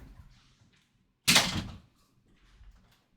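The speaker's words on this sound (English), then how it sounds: "Had to lock my door." A door lock or latch is worked by hand, giving a single sharp, close clack with a brief rattling tail against a quiet room.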